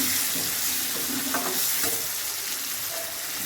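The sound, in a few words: sautéing fish curry with turmeric in a pan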